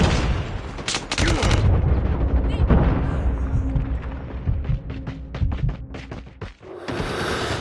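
A grenade blast in a first-person shooter game, a heavy boom rolling into sustained crackling gunfire and repeated sharp shots, loud and close, with game voices faintly mixed in.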